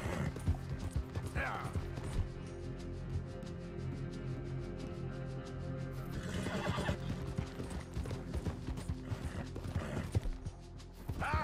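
Horse in the Red Dead Redemption 2 video game whinnies loudly near the start and again around the middle, over steady clip-clop hoofbeats and rattling tack, with a continuous game soundscape underneath throughout.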